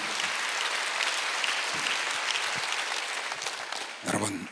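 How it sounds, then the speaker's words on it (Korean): A church congregation at a Sunday worship service claps together, a dense, sustained wash of many hands that holds steady and swells briefly near the end. "박수 하세요"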